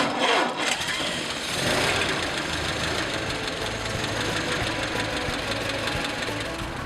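A 1930 Ford Model A engine cranking over and catching, then settling into a steady, close, rattly knocking idle that holds at a fairly even level.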